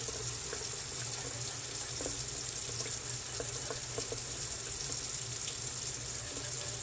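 Water pouring into a roux in a skillet, a steady, close rushing stream with faint sizzling that holds at an even level throughout.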